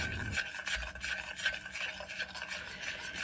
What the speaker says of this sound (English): now I am just stirring until there were about maybe 5 to 8 chips that hadn't melted completely